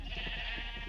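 A sheep bleats in a video game: a short, wavering bleat over a steady background hum, close and fairly loud, with no speech.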